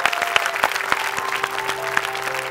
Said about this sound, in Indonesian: Tepuk tangan untuk Gia Yobi.